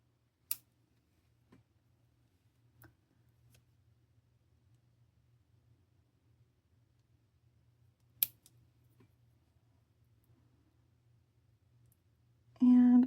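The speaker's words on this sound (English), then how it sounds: "Getting the excess wire trimmed up." Wire cutters trim excess jewelry wire in a quiet room, two crisp, isolated snips several seconds apart with faint handling ticks between.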